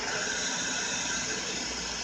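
A steady, even steam hiss from a toy Thomas railway engine, Stanley, plays alone and close for about two seconds with no break.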